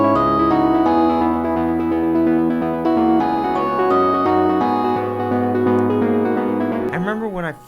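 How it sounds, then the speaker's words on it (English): Electronic song where a synth counter-melody joins the main melody, dense layered synth chords and bass playing continuously and loud, ending in a brief sweeping sound. "Then for the second half of this melody, he brings in this counter."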